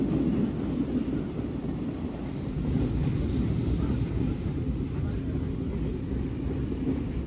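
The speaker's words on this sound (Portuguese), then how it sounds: "Eu percebi bem rápido que o trem andava bem devagar." A train on an old English-built railway near São Paulo rolls slowly with a steady low rumble and rattle, a continuous moderate drone throughout.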